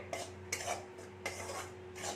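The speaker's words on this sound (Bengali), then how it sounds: "আটাটাকে গ্যাস কম করে আমি একটু ভেজে নিচ্ছি" Wheat flour dry-roasts in a pan over low heat, a spatula scraping through it in rhythmic strokes roughly every half second or so, close and soft, with no voices.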